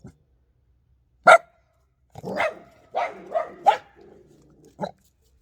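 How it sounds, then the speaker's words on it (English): A neighbouring dog barks in a short irregular series of sharp barks with brief gaps, fairly close and clear against a quiet background. "That's next door's dog's barking."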